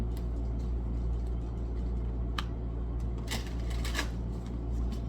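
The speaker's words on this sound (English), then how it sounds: "we'll give it a good shuffle" Tarot cards shuffle in a quiet room with soft, irregular riffling and a few sharper card snaps near the end, close but faint over a low background hum.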